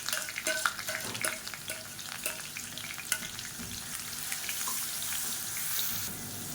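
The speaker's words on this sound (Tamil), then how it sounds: "இப்போ அரைச்சி வச்சுருக்க வெங்காயம் வரமிளகாய் பேஸ்ட்டை சேர்த்துக்கலாம். சேர்த்துட்டு பச்சை வாசனை போக வதக்கி விட்டுக்கலாம்." Onion and dried red chili paste sautés in hot oil for kara chutney, giving a soft continuous sizzle with scattered clicks of stirring throughout.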